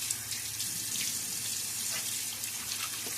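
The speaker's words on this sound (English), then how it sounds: "Little splash of water, not trying to rinse everything away yet." Tap water runs and splashes steadily at a sink during a wet shave with a Timeless 68 open-comb safety razor, a continuous close, bright hiss with no talk.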